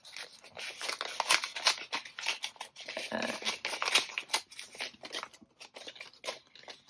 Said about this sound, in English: I did receive a card. I'm going to open it.